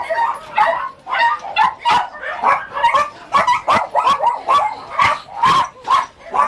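Several small dogs bark and yip excitedly in quick, overlapping bursts at a Korean dog meat farm during a rescue, close by and loud, with whimpers mixed in throughout.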